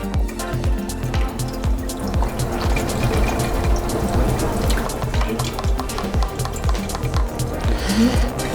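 C-41 developer chemicals pour back into a Jobo CPP-2 film processing tank, a steady close gurgling stream with rhythmic sloshing and knocking from the rotating processor throughout.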